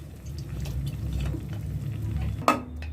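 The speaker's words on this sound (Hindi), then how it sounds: "अब इसको मिक्स करके कवर करके और फिर पकाएंगे जब तक कि आलू ऑलमोस्ट डन हो जाए।" Potatoes for Kashmiri gande te alve are stirred in a pan with a soft, steady sizzle and a scraping rustle, close and moderate in level, ending with a brief sharp clink of utensil on pan.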